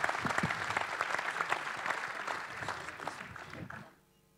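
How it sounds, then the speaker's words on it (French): An audience applauds warmly for cyclist Marta Cavalli at a women's cycling team presentation, a dense, sustained clatter of many hands that fades out near the end. "vous pouvez l'applaudir chaleureusement"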